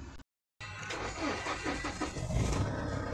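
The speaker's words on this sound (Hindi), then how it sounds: "अभी मैं गाड़ी स्टार्ट करके दिखाता हूँ।" A Toyota car that had a P1604 ECU RAM calibration fault and would not start cranks after a brief silence, then catches and runs with a loud, steady engine rumble, with no voices.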